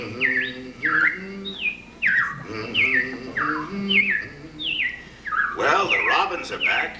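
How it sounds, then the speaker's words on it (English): Robins sing in repeated short, downward-sliding whistled phrases, fairly close, with busier overlapping calls near the end. "the robins are back"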